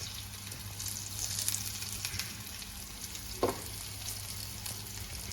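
Surmai fish coated in rava shallow-frying in a little oil, a steady soft sizzle and crackle throughout with a brief louder spit midway, heard alone without talk.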